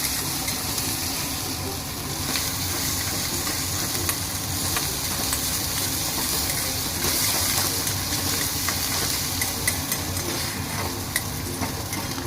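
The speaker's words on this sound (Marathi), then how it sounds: "आणि आता हळद आणि मीठ लावून फ्राय करून घेतो" Prawns with turmeric, salt and a little onion fry in a pan, giving a steady dense sizzle with occasional stirring scrapes, constant and close throughout with no talking.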